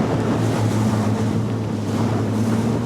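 A Halma HR 30 RIB motorboat carves a sharp turn at sea, its outboard engine droning steadily under continuous rushing water and wind, loud and close throughout.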